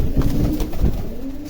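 Pigeons cooing on a rooftop where they are fed grain and water, soft rolling coos repeating close by in a steady low murmur.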